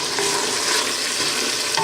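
Onions sizzle steadily in a pot of Grandpa Vic's sauce, a close, continuous bright frying hiss with a soft crackle, heard alone without any voices.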